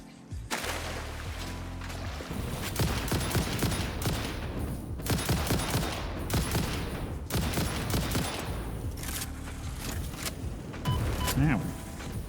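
Enemy gunfire in the factory-building game Satisfactory: dense, sustained volleys of rapid shots crackling near and far, with mechanical clatter and a voice talking over the shooting.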